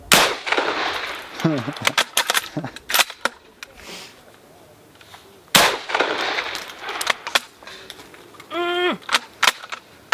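A Chinese Arisaka rifle chambered in 7.62x39 fired outdoors: several sharp, loud reports spaced seconds apart, with metallic clanks of bolt cycling between shots and brief voices in the background.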